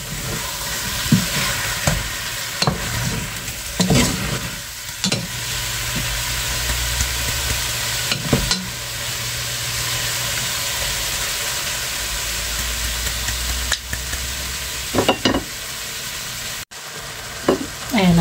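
Food sizzles and crackles steadily in a hot pan while a utensil stirs and scrapes it at intervals, producing sharp knocks against the pan over the constant frying hiss.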